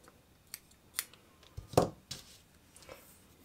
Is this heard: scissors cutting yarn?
yes